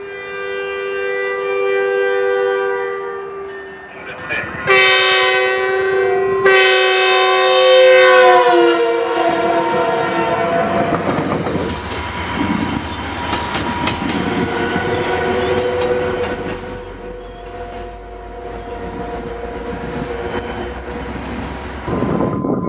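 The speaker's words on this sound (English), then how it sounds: "The cab cars would receive Nathan K2 air horns and Transtronic e-bells." A loud, sustained locomotive Nathan K2 air horn blasts with chord-like tones, then a steady Transtronic electronic bell dings repeatedly alongside rumbling engine noise.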